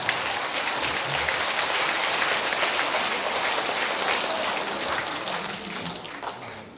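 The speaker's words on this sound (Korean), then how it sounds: "박수." An audience at a laughter lecture in a city hall claps in sustained, dense applause. The clapping is loud and even, sounds like many hands in a room, and fades slightly near the end.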